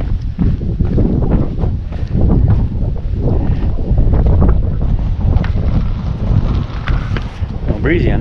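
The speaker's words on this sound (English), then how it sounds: "A little breezy on this side." Strong wind buffets the microphone on an exposed mountain trail on Jay Mountain, a steady loud rushing roar with gusts throughout, and a person briefly speaks over it.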